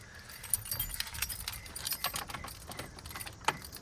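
Keys jangle in a garage during a Subaru GC8 WRX downpipe install, a faint metallic clinking in scattered bursts, ending in one sharp jingle near the close.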